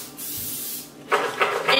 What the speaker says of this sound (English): So we're going to use a little bit of cooking spray.